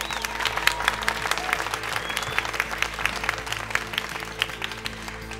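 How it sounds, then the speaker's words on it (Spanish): Applause from a studio audience for a child contestant called to center stage at a televised singing competition in Panama, steady clapping throughout at moderate distance with a faint crowd murmur. "Fuerte el aplauso para Pedro."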